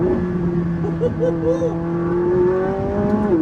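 Supercar engine spooling up to around 7,000 rpm on a downshift, a loud, sustained rising mechanical tone close by, running steadily through the whole stretch with speech-like harmonic bands over it.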